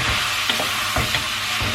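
Half-cooked meatballs frying in oil in a pan, with a steady, close sizzle throughout and soft stirring scrapes at intervals, and no talk.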